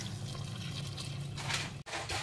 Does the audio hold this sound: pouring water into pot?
yes